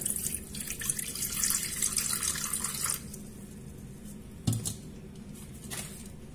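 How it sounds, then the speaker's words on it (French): Warm water pouring from a tap or jug into a bowl for semolina bread dough, a steady splashing stream for about three seconds, then quieter with a brief clunk and faint handling sounds. "je vais commencer par mettre 200 ml d'eau tiède"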